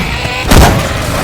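A single heavy weapon blast in Left 4 Dead 2, swapped for a Syphon Filter gun sound effect, booms once loud and close over constant game background noise.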